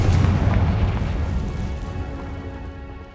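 Bombarda and Confringo spell blasts in the video game Hogwarts Legacy: a loud booming explosion with a heavy low rumble that decays slowly over a few seconds.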